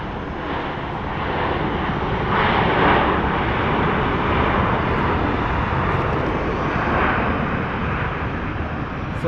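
A jet airliner takes off at Phoenix Sky Harbor International Airport. Its engines give a loud, broad, sustained roar that swells and holds steady for the whole stretch, with no voices heard.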